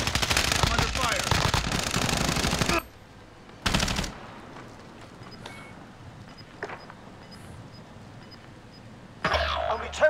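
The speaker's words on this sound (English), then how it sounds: "I'm under fire." Automatic gunfire rattles in a Warzone battle royale match, with loud sustained bursts up front, a second short burst, then quieter scattered shots and a final burst near the end.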